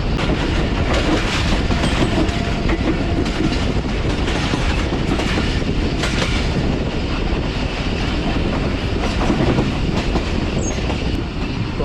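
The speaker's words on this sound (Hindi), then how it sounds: "आहिस्ता आहिस्ता ट्रेन जो है वो क्रॉस करेंगे मल्ली रिवर ब्रिज को" Green Line Express passenger train in Sindh rolling slowly toward the Malli River bridge, with a loud, steady rumble and rhythmic wheel clatter throughout, plus faint squealing of wheels on the rails and no voices.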